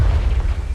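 A single low, rumbling explosion from the Confringo blasting spell in the Hogwarts Legacy video game, booming steadily through a short moment with no voices.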